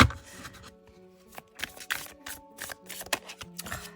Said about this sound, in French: On commence tout de suite avec le mélange des cartes volantes.